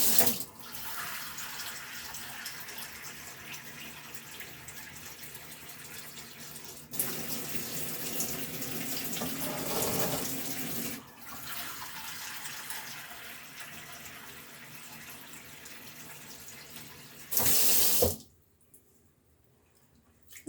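Tap water pours steadily into a kitchen sink, a broad continuous rush that shifts in force and briefly swells near the end before stopping, with no talking.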